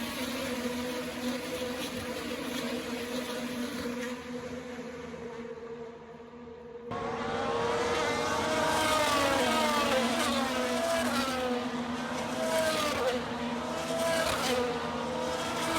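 IndyCar race cars at the Homestead-Miami Speedway championship race in stop motion, with a steady engine drone that jumps louder halfway through as a wave of sweeping, rising and falling whines passes close by, continuous with no talk.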